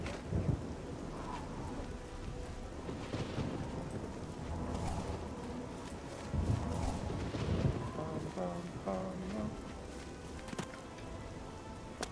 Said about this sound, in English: Well, it is overcast, but it's also raining, so I should be playing the raining theme.